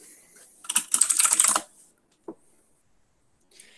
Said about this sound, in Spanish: Perdón por el ruido del teclado.